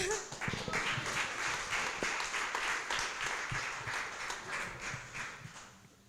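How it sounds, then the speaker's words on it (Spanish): A congregation at a church retreat devotional claps together, a lively burst of applause with sharp individual claps and some thumps, loud at first and tapering slightly toward the end. "Un aplauso."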